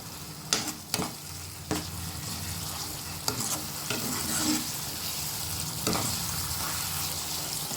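Spices with chili powder frying in a pan for a Bengali potato and pointed gourd dish, a constant close sizzle broken by several knocks and scrapes of a spatula, no speech.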